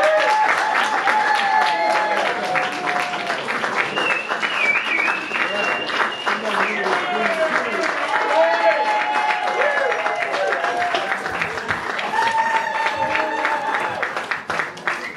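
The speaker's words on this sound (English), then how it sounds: "we clap, the band will come out" A concert audience claps steadily for an Irish traditional band before they take the stage, dense sustained applause with cheers and whoops rising above it, loud and close throughout.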